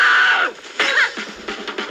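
A woman screams in a retro 1970s action movie TNT Jackson, a loud, sharp, close cry that breaks off, followed by shorter strained vocal bursts.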